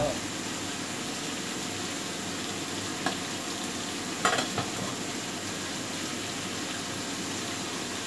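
Tomato and pork belly frying in a pan while being stirred for ginisang sitaw, a steady close sizzle that runs throughout with a couple of faint utensil clinks.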